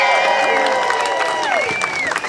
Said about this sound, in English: Can we give a round of applause for Mark, please?